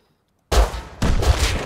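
A gunshot in the survival video game Rust lands a headshot: a loud sharp blast, then a second burst a half second later, each with a dense rumbling tail, after a brief silence and with no talking.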